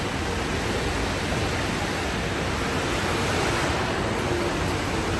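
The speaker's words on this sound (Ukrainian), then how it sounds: "Так тут гарно, навіть взимку працюють фонтани." Fountains keep running through winter at Victoria Gardens in Lviv, giving a steady, dense rush of splashing water that stays even throughout with no talk.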